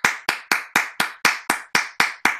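Ten crisp, evenly spaced hand claps sound close and loud in a steady rhythm, like a single small group or person applauding after a poem reading, with no voices.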